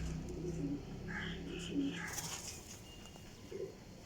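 Rampuri high flyer pigeons coo in low, throaty bursts, several overlapping calls recurring steadily at close range against a busy loft background with faint chirps.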